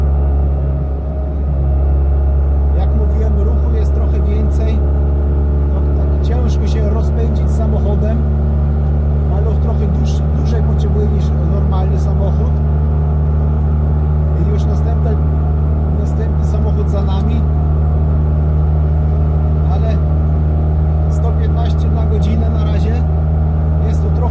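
Orange Fiat 126p Maluch overtaking a truck on a highway, heard from inside as a steady, loud, droning engine hum with strong low tones that runs unbroken throughout, with someone talking over it.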